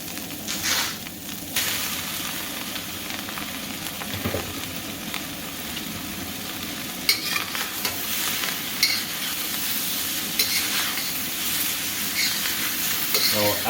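Seafood added to a hot wok for drunken noodles sizzles and crackles, with stirring scrapes and clatters that grow louder and busier in the second half.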